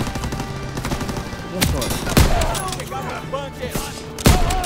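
Bursts of machine gun fire rattle close by amid sharp individual shots in Call of Duty: WWII's D-Day Normandy campaign, with someone speaking briefly in Portuguese over the gunfire.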